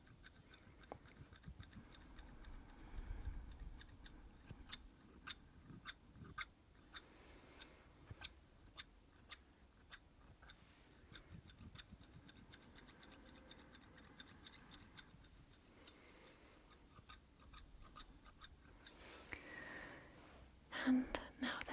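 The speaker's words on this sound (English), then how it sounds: "I have my little scissors here." Soft, close snipping of small hair scissors trimming eyebrows repeats in quick irregular clicks, accompanied by quiet whispering throughout.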